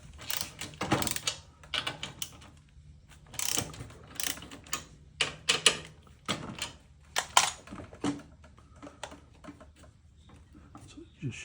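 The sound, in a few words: 3/8 socket ratchet loosening hinge plate bolt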